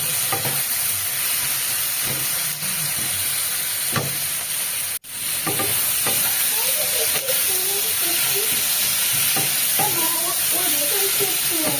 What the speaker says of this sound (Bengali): দেখো বেশ একটা ভাজা ভাজা হয়ে আসছে আর নরমও হয়ে গেছে সবজিগুলো